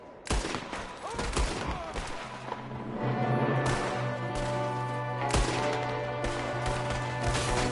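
Gunfire in the Red Dead Redemption 2 video game: a rapid fusillade of loud, sharp shots cracking in bursts and overlapping, with a lasting low hum between volleys.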